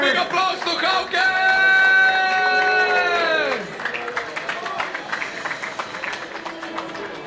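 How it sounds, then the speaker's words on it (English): An audience at a cigar-smoking competition final in Split, Croatia, cheers and claps for a contestant; a loud held whoop rises over the clapping, then the crowd noise thins to scattered claps and murmur under talk. "Big applause to Hauke."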